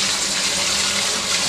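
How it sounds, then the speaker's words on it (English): Tap water runs steadily and loudly over a 78 RPM record held under the faucet, a constant close splashing gush with no voices. "just run this underneath the water over where the fuzzies are"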